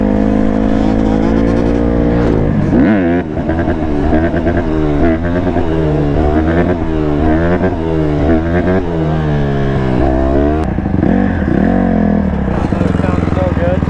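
A quad bike engine revs repeatedly while riding at a lot, rising and falling in pitch in loud, close surges for the whole stretch, with voices talking over it at times.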